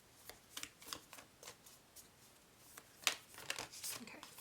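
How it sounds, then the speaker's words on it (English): Tarot cards shuffled slowly by hand, a series of crisp riffling and sliding bursts at an unhurried, uneven pace, close and fairly quiet. "I'm going to keep shuffling."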